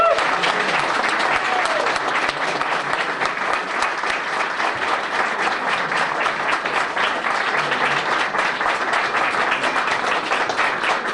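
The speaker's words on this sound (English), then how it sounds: "Well, how about another round of applause?" Evening audience at a Newark Archives Project talk giving another round of applause, a long, even stretch of many hands clapping without letting up.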